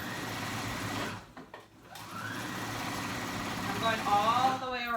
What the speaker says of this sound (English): I'm gonna go in on my machine with a straight stitch